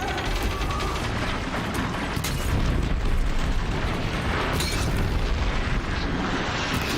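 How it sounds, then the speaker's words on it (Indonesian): Explosion of a machine in the video game Horizon Zero Dawn: a loud, dense blast with heavy low rumble and mechanical clanking that sustains for several seconds, with bursts of debris. "Meledak, nice."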